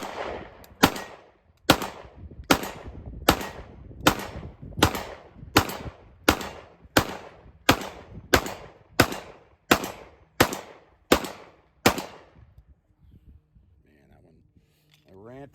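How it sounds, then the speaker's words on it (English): Springfield Prodigy pistol firing a steady string of about seventeen loud, sharp shots at an even pace, followed by quieter moments with a brief voice near the end. "let's put some more rounds through it"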